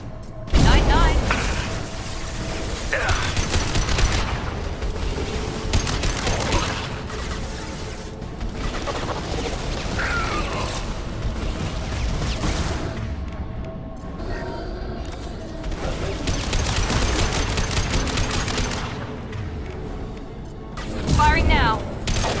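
Weapons fire loudly in a video game firefight, with repeated booming impacts, crashes and mechanical clatter layered into a dense, sustained battle din; voices speak intermittently over it.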